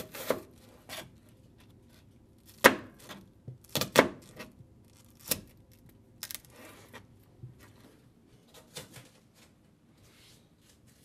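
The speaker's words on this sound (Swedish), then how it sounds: "Hacka löken faktiskt, den ska vara ganska liten för den ska ju ge en soppa." A knife chops onion finely on a board for a roasted paprika soup, heard as sparse, irregular sharp taps, a few louder strikes among quieter ones, close and alone without talk.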